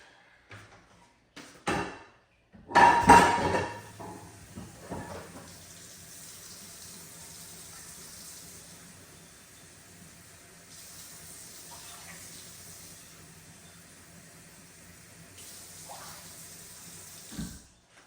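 Tap water runs into a measuring cup in a kitchen. A few clunks and handling knocks come first, then a loud burst of water from the faucet settles into a steady, moderate stream that runs for a long while before stopping.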